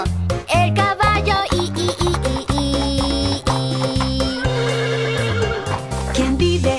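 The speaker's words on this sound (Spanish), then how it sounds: "¡Vive un caballo! ¡El caballo!" A horse whinnies inside a children's farm song, the neigh rising over a bouncy, loud musical backing with steady beats and singing voices throughout.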